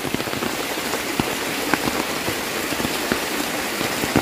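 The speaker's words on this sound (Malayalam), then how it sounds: "നല്ല മഴ ചെയ്യുന്നുണ്ട്" Heavy rain pours down in a dense, steady hiss, with scattered sharper drop impacts standing out close by, and no one speaking.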